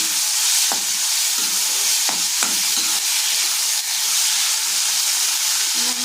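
Tomatoes and onions frying in a pan, a loud, even sizzle with steady hiss and a few sharp stirring clinks over several seconds, no talking.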